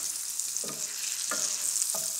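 Freshly cooked spinach and ricotta agnolotti tossed in sizzling burnt butter with sage and chilli flakes, a bright continuous sizzle with three soft stirring scrapes spaced evenly.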